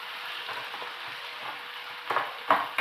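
Onions, capsicum and tomato frying in a pan give a steady, close hiss and crackle, with a few louder spits and stirring clatters near the end.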